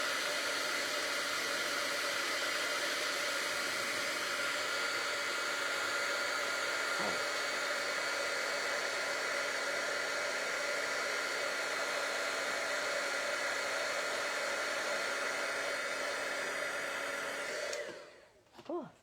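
Embossing heat gun blowing hot air over a card for a Stampin' Up! craft project, a loud, steady hair-dryer-like whir running continuously before cutting off abruptly near the end.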